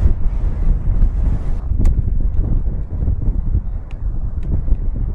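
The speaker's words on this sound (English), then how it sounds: "Some pretty serious headwind again." Strong headwind buffets a cyclist in the Atlas Mountains during a bikepacking race, a steady, loud roar of wind rumbling across the microphone for the whole stretch, with a few brief ticks and rattles.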